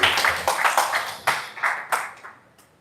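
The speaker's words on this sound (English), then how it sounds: "Can you give a big round of applause?" Scattered audience applause at a live wellness event, a few bursts of clapping that fade quickly into sparse, separate claps and die away to near silence.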